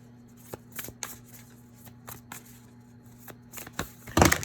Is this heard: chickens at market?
no